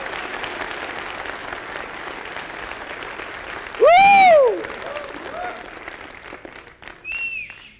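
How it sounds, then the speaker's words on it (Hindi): Audience clapping at a network marketing seminar in India, a short loud burst of applause rising suddenly and fading within about a second, heard over a noisy hall with a sharp feedback-like whistle. "जोरदार तालियां"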